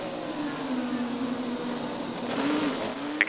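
Onboard engine of Pato O'Ward's IndyCar race car at the 2021 Grand Prix of Long Beach: a loud, steady, close engine drone with shifting pitch as it revs and eases, ending in a brief sharper burst.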